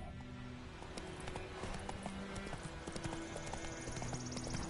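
A horse gallops in The Witcher 3, its hooves beating a quick, regular clip-clop at moderate loudness alongside tonal game sounds and occasional bursts of music.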